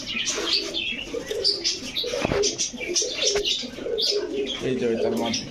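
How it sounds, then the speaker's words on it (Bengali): Long, large racer pigeons cooing close by in soft repeated calls, with scattered chirps and a little wing flapping, under ongoing talk. "সবজি রেসার অনেক বড় সাইজ অনেক লম্বা কবুতর অনেক লম্বা"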